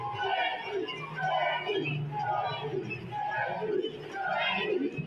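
Fans at a state championship high school football game chant together in loud, rhythmic, repeated bursts, a large distant crowd whose voices swell and fall in a regular cadence.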